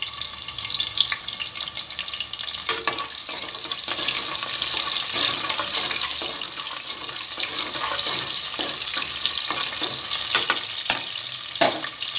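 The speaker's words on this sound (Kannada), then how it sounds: "ಈಗ ಒಂದೇ ಒಂದು ಈರುಳ್ಳಿ ಮತ್ತು ಬಾತೆಲೆ ಹಾಕ್ತಾಯಿದ್ದೀನಿ" Onion and bay leaf fry in hot oil with fennel seeds while a mutton curry is being made, giving a steady close sizzle with intermittent stirring clinks.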